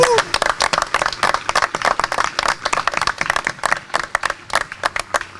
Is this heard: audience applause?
yes